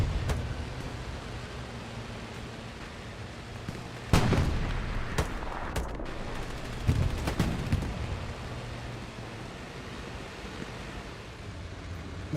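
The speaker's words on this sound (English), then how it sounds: "You can see a tank engagement here." Tank battle with artillery on Omaha Beach in Hell Let Loose: a steady low engine rumble runs throughout, broken by loud booming blasts near four and seven seconds and scattered sharper cracks of gunfire.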